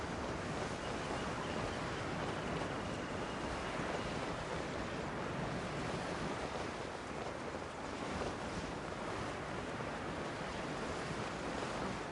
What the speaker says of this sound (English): Waves are as calm as always.